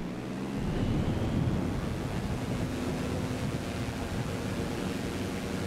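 An aircraft accelerates for takeoff near Espigão do Oeste, Rondônia, in Microsoft Flight Simulator 2020, a dense, steady engine and rushing-air roar that swells briefly at the start and then holds loud and even.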